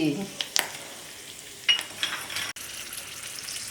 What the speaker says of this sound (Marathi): हे जिरे घालू हे हिंग घालू कढीपत्ता घालू ही एक हिरवी मिरची